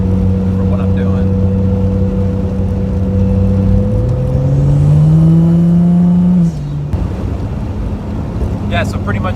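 Turbocharged 1JZ engine in a Fox Body Mustang with a bleed-off boost controller at 15 psi, droning steadily then climbing in pitch as it accelerates, loud and close with wind noise and a voice over it.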